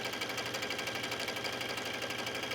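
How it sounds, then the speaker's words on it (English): A steady, fast mechanical whirring with a rapid rhythmic chatter runs unbroken, a sewing machine stitching a hem on fabric close by. "The most important is that the stitch looks nice and smooth on the sewing machine."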